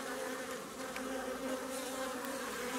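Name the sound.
honeybees buzzing at the hive entrance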